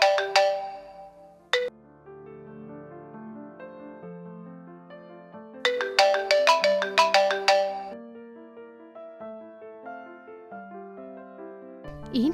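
A mobile phone rings for an incoming call with a bright melodic ringtone, repeating its chiming phrase several times, loud and close, with no voices over it.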